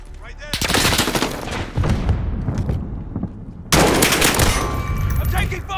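Bursts of automatic rifle fire and heavy shooting in a Call of Duty Modern Warfare match, loud close volleys with a lull in between, with voices calling out over the fire.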